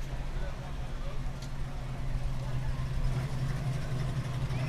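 An old car's engine idles at a low, steady rumble during an outdoor parade, fairly faint, with people talking nearby.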